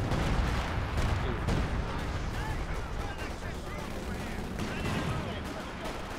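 An anti-tank gun fires in the battle game Company of Heroes 2, with booming shots and distant gunfire rumbling amid a busy battle soundscape while voices talk over it.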